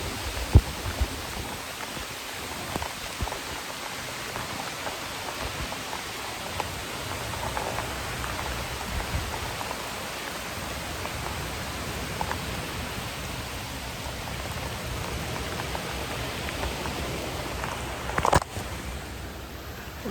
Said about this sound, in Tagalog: Ulan, hindi na nagbiro talaga.